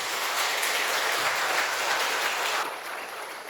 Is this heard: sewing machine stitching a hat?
no